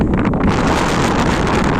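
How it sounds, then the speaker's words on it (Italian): Strong wind roars steadily across an exposed mountain summit above the Sardinian coast near Piscinas, buffeting the microphone with constant loud rumbling and hiss and no break. "Mo c'è vento, quindi mi tocca strillare"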